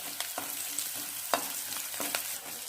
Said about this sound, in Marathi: आता कढई आपण तापत ठेवले, फोडणीला तेल घालू, कांदा नंतर परतून घ्या, लाल होईपर्यंत परता।